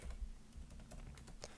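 Rapid, light keystrokes on a computer keyboard as a password is typed, close and fairly quiet, in a brief burst of irregular taps with no talking.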